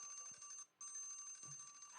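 An alarm rings on in a steady, bright electronic beeping pattern with a brief gap partway through, loud and close, with no talk over it.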